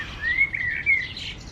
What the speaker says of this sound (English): I'm sorry if the birds are too loud.